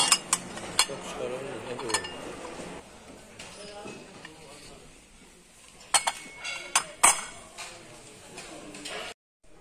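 Small sectioned frying pans with heart-shaped and round compartments are handled, giving scattered sharp metallic clinks and knocks over a quiet room background, with a few louder taps near the end.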